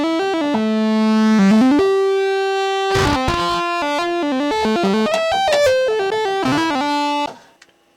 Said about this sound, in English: you can get some distortion effects with some experimentation